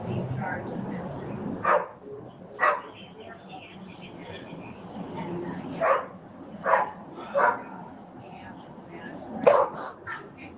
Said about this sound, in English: We hear obnoxious dogs on a rope making noises.